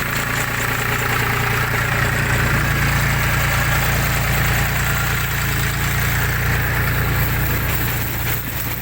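Ukrainian-built combine harvester gathering pumpkins (Danka Polka and Ukrainian big-fruited varieties) runs steadily outdoors in frost, a loud continuous low engine drone with mechanical vibration throughout, no talk.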